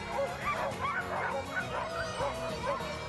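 A team of Alaskan and Siberian huskies yips, barks and whines excitedly near Yellowknife before a dog sled run, overlapping eager cries forming a busy, dense chorus close by.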